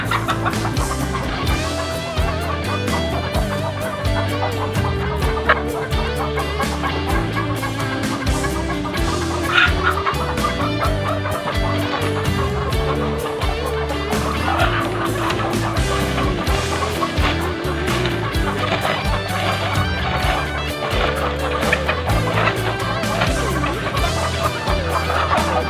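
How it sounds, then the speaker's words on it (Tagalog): Frightened chickens cluck and squawk continuously and close by, several birds overlapping in busy, agitated chatter with the mechanical hum of a nearby dryer underneath. "Maingay pang manok, natatakot pa."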